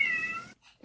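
A cat lets out a single loud, drawn-out meow up close in a clip of kitties attacking, followed by a brief silence and the sharp start of another cry.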